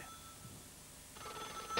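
A telephone bell rings in a children's TV show, a brief rapid trilling burst near the end over quiet background, faint and with no talking.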